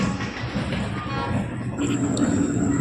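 A steady low rumble of an Indian Railways train at a station on the Durgapur to Howrah route, with a faint high squeal joining near the end and no clear speech.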